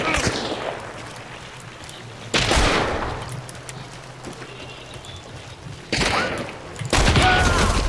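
Revolver shots from a Schofield Model 3 in the game Hunt: Showdown, a few sharp loud bursts at separate moments with quieter game ambience between them and people talking around the shots.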